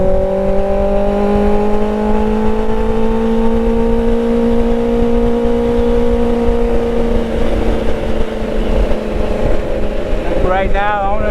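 A motorcycle engine held at steady revs before an upshift, a continuous droning hum with a slight rise in pitch, loud and close, with wind noise and a faint high whine near the end.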